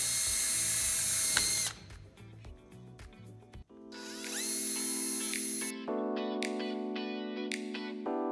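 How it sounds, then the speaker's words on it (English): Power drill boring holes while mounting an Origin Skyforce fitting, heard close and loud in sustained whirring bursts that rise and change pitch, with short pauses between runs. "Now the time has come to drill."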